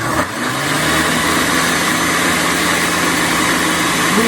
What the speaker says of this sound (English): So start your blender first.